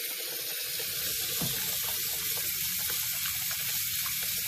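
Warm water runs from a tap into a sink for a small animal's bath, making a steady, soft rushing hiss with no voices.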